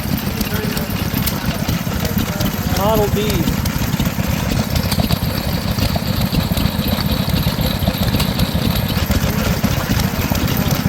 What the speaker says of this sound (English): Nice running engine.